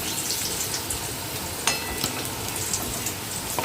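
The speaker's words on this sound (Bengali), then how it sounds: "তো আলুটা আমি ভালো করে ভেজে নিচ্ছি।" Potatoes fry in hot oil with a dense, steady close sizzle and crackle, broken by a few sharp pops and spatters.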